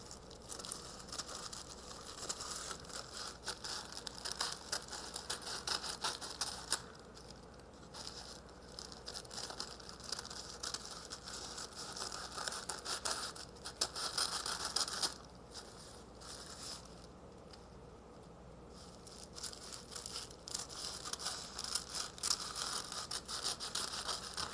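Scissors cutting folded paper into strips for a stained glass butterfly craft, a faint close run of crinkling, snipping and rustling that continues steadily with brief pauses.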